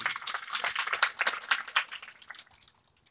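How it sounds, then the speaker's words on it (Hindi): A burst of audience applause, dense clapping from many hands that swells briefly and then fades away to quiet. "जोरदार तालियां अपने लिए"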